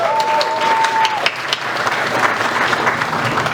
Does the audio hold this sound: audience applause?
yes